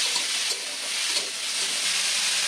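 Pumpkin pieces fry in a pan with a touch of salt, giving a steady, close hissing sizzle with faint stirring, and no voices are heard.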